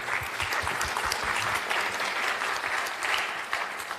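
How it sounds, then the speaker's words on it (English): An audience at a health policy conference applauds two project presenters, steady dense clapping from a crowd that stays fairly even throughout, moderately loud with no voices over it. "Applause for Vesna and Stefan for presenting the project for us"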